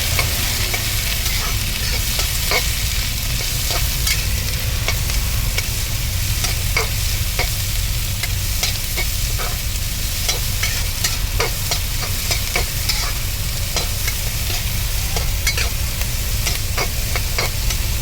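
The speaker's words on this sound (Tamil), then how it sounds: "நல்லா போட்டு வதப்போம்." Beetroot poriyal stirred and sautéed in a pan, a steady frying sizzle with a string of sharp scraping and stirring clicks from a utensil, close and continuous throughout with no talking.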